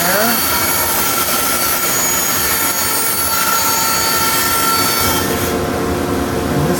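A power saw cuts wood for a model airplane in a workshop, giving a steady, loud, droning roar with a mechanical whine that runs without a break, while someone talks over it.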